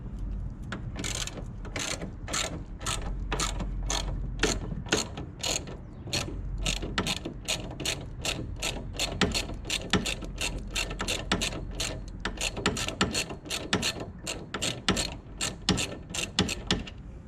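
A hand ratchet with a 15mm socket loosens the front strut bar bolt on an SHO, giving a long, close run of rapid, even clicks that keeps going with only brief pauses.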